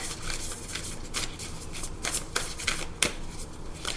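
A Moonology oracle card deck being shuffled, a steady run of close, crisp riffling and flicking with a few sharper snaps, heard alone without talk.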